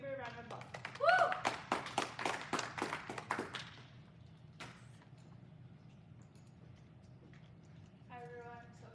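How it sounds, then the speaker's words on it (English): A room audience claps and cheers for a presenter at an Earth Ambassador gathering, loud scattered applause for about three seconds with a whistle-like whoop, then fading to quiet room noise with a brief voice at the end. "let's give her a round of applause"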